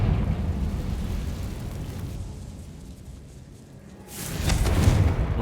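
Fire spell explosion in the video game Hogwarts Legacy: a rumbling burst of roaring, crackling blast noise that eases off, then flares into a sharp, loud second surge.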